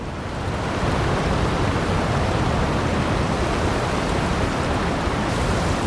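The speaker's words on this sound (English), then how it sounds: "Secret waterfall." Hidden waterfall in Dragon Age: The Veilguard, a dense, steady roar of rushing water filling the scene continuously at close range, with no talking.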